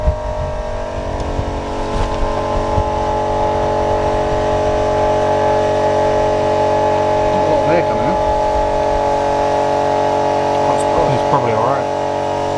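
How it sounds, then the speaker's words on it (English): An ABS pump runs during a brake bleed on a 400 bhp Audi TTS being fitted with an AP Racing big brake kit, while a car air pump runs at the same time. Together they make a loud, steady, close mechanical drone, with brief voices over it. "ABS pump's running."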